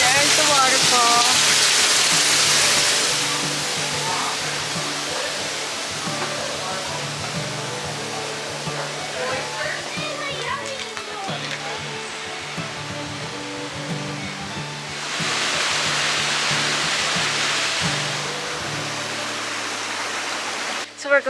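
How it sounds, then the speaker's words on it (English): Falling water roars in a broad, steady rush, swelling louder at the start and again near the end, with people talking over it. "There's the waterfall."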